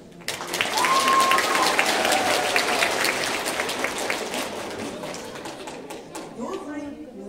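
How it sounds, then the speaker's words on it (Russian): A hall full of spectators at a school farewell ceremony for primary classes bursts into loud applause, dense clapping that swells quickly, holds, then thins out near the end with a voice and chatter underneath. "Давайте еще раз подарим громкие аплодисменты вашим классам."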